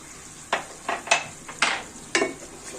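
A spoon scrapes and stirs thick spice masala mixed with sour yogurt in a pan for a cauliflower roast, giving six distinct scraping strokes at an uneven pace over a quiet background.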